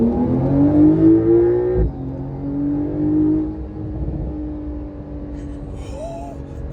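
A Porsche 911 Carrera S pulls hard at full throttle, its engine note climbing steadily through the revs, dropping briefly at a gear change near two seconds, then building again as the car keeps accelerating close by.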